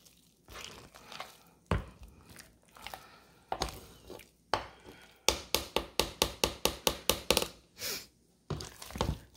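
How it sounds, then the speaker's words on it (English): Garlic parmesan potatoes being mashed in a pot with a masher, a run of sharp, rhythmic squelching thumps and crinkly taps that grows into quick regular strokes, close and fairly loud with no talking. "So we're just going to keep on mashing."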